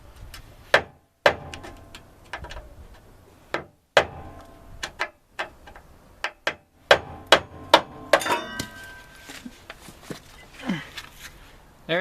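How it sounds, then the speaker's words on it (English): Screwdriver being hammered through a rear shock mount on a Ford Ranger, a series of sharp metallic strikes at irregular intervals, some in quick bursts, with a few faint shuffling sounds between blows. "Now all you gotta do is just drive the screwdriver through."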